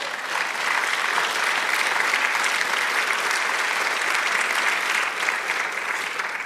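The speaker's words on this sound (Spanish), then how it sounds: "denle aplausos" A church congregation breaks into steady, sustained applause that fills the space evenly from start to finish, with no voices rising above the clapping.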